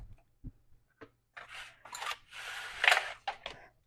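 Fresh mushrooms being cut for a pizza topping, a few short scraping and slicing strokes up close, the middle ones longer and louder, with light taps before them and no voice over the sound.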